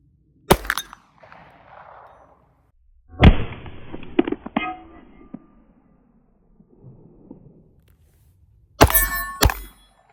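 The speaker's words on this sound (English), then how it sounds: "We've got our little 6-inch gong here, so we're going to take it all the way back to 50 yards and put in a nice little precision shot." Two rifle shots fired at a small 6-inch steel gong set out at 50 yards, each sharp crack followed by a faint distant metallic ring, with quiet handling noises between and a last burst of loud cracks near the end.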